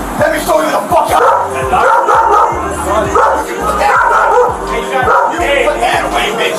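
A dog barks and yips repeatedly during a tense police arrest, sharp rhythmic barks over loud shouting voices and crowd noise.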